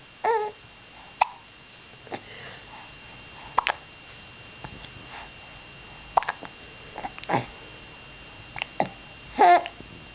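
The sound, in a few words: child hiccuping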